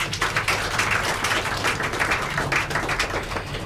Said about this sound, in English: Make una clap for Madam.